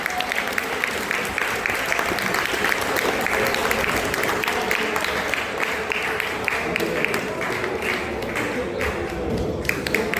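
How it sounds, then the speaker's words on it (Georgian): A crowd at a kickboxing championship bout applauds in a dense, steady wash of clapping that carries through the whole stretch, with voices mixed in. "აპლოდისმენტები კიდევ ერთხელ რა."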